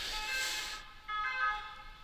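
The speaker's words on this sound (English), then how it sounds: "The ambulances." An ambulance siren wails in a racing video game. Its wavering tone sounds briefly, drops away for a moment, then returns at moderate loudness over steady background game noise.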